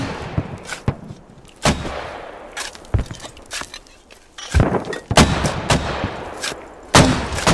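In the game Squad, a mortar barrage fires off a string of heavy, irregular booms and thuds, some close and loud and others more distant, with no talk.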